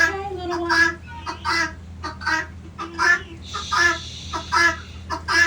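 Hens cluck and murmur in a backyard coop with nest boxes and roosting bars, a string of short, close, repeated calls; a person briefly hushes them.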